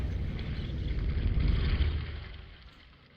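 A ship rises from the water in the realMyst video game, giving a deep, rumbling mechanical drone that swells for a couple of seconds and then fades out.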